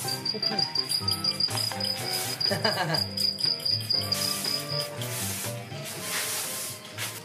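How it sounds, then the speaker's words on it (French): A cricket's shrill, piercing chirp sounds in rapid repeated pulses for about five seconds, loud and close, over background music that continues after the chirping stops. "Le petit cri perçant du grillon, ça devient très, très agaçant."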